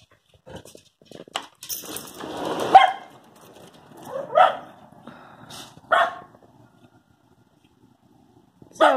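A dog barks in several sharp, loud bursts spaced a second or so apart, with quiet gaps between and a final bark at the end, indoors near the listener.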